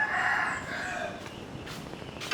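Chickens at a quail and poultry farm that also keeps chick and layer hens, giving a steady background of clucking and a crow-like call, moderately loud and continuous without talk.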